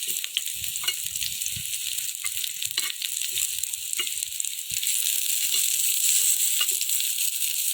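Sweet potato adai frying in oil on a pan, a steady bright sizzle throughout with occasional soft scrapes and low knocks as it is turned, growing slightly louder toward the end.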